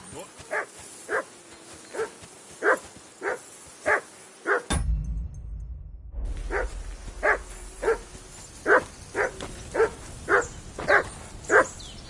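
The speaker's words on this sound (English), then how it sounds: "Call that dog to heel." A dog in a video game barks in a steady series of sharp, evenly spaced woofs, roughly one every second, loud and close, with a brief quieter gap partway through.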